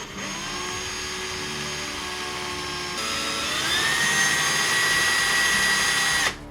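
A small power drill bores into the hand of a plastic wizard miniature, a steady close whine that rises in pitch partway through before cutting off, with no talk.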